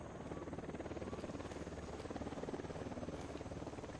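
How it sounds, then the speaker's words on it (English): A helicopter in the video game Ghost Recon Wildlands approaches with a steady, continuous rotor drone and throbbing buzz that holds a fairly even level throughout, with no talk over it. "Chopper's approaching."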